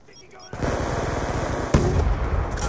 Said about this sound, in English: I got shot through the wall like they were shooting you